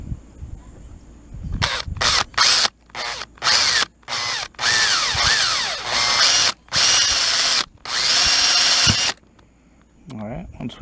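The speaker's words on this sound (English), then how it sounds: "Now you want to turn it very slowly because the drill's going to want to walk on you." A power drill bores slowly through PVC pipe in repeated loud bursts of whirring, stopping and starting, with brief pauses between pulses and a short stretch of quieter handling at the end.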